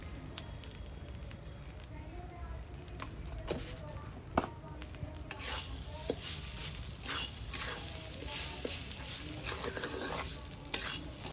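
Ginger and chili paste with salt and turmeric frying in a pan, a continuous close sizzle with repeated scraping stirs and a sharp clack partway through, the hiss growing fuller in the second half.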